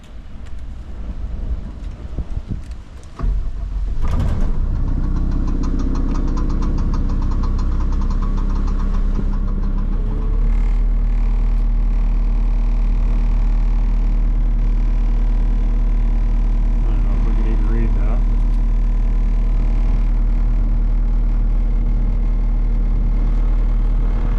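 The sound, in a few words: skid steer loader engine running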